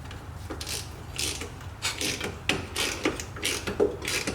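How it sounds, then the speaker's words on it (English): Ratchet clicking repeatedly as a 13mm socket tightens a bearing puller on an E30/E36 front wheel bearing, bursts of mechanical clicks in an irregular rhythm, close and fairly loud with no talk. "So I just have a 13mm socket, goes on the end of this, and then you just tighten it down."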